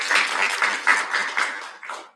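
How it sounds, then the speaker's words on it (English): Audience at a medical students' internal medicine conference applauds a presenter, a dense, steady patter of clapping that fades slightly toward the end, with no talk over it. "let's applaud the presenter."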